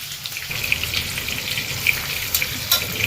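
Stuffed brinjal cooking in oil on a low gas flame, a close continuous frying sizzle with small pops and crackles, steady and fairly loud, with no voices.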